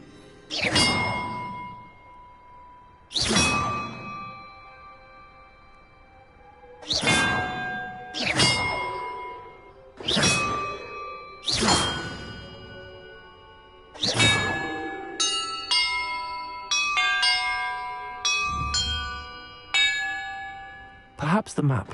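Bells ring in a Hogwarts Legacy puzzle, a series of bright clanging strikes with long ringing decays, spaced apart at first, then several tones struck in quicker succession.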